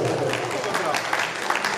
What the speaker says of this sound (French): S'il vous plaît, applaudissez.